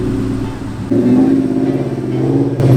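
A Terminator Cobra Mustang pulls away under acceleration, its engine note rising with a steady supercharger whine held close and loud throughout.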